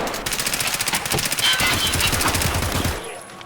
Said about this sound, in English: the low pen of the SP8 ammo that I'm firing out of the Keter